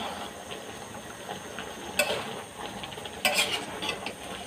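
Curry being stirred and sautéed in a pan, a utensil scraping and clinking against the metal in irregular strokes over a low steady sizzle, with two sharper clatters near the end.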